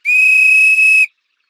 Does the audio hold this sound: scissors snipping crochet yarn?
no